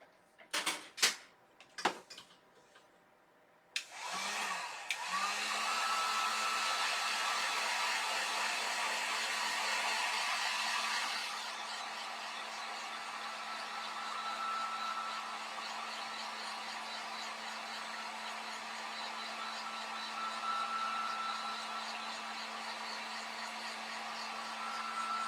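A few sharp taps and clicks come first, then a hair dryer switches on and runs with a steady, loud whine and rush for the rest of the time, drying a nativity home decor craft.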